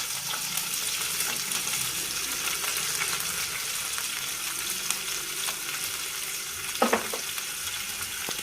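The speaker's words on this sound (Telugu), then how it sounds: "మనం సన్నగా తరిగి పెట్టుకున్న ఆనియన్స్ని ఇందులో యాడ్ చేసుకోవాలి" Finely chopped onions and cumin seeds fry in hot oil with a steady soft sizzle, joined by a brief scraping stir near the end.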